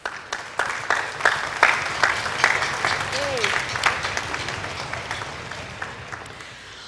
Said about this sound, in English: Shall we clap?